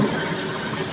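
Water gushes steadily into a Brandt washing machine drum as it fills, a constant close rushing hiss with no pauses or voices.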